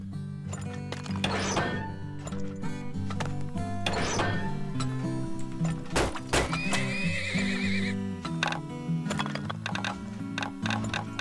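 Horses in the video game Turmoil whinnying loudly several times over a game music backdrop, mixed with clip-clop hooves and scattered clicks and ticks from the game.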